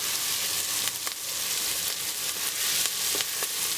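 Chopped garlic and fresh thyme sizzle in a soup pot as they are stirred, giving a steady, close crackling hiss with a few faint scrapes and taps from the utensil.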